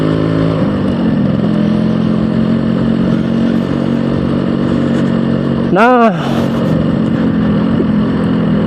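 An all-original Yamaha RX-King Cobra in the rare red-lip series drones steadily while being ridden along a road, a continuous close engine hum under a rider's talk.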